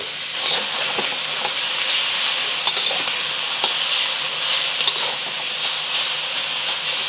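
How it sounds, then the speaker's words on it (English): Pork searing in hot oil in a wok, a continuous bright sizzling hiss with occasional faint clicks, steady and close, no voices. "Let it sear for about a minute before mixing things around."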